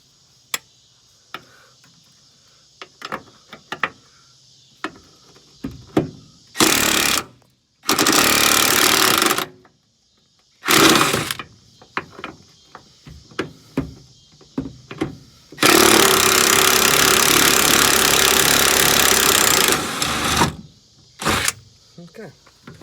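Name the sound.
power tool removing bolts on Mercedes Sprinter rear bumper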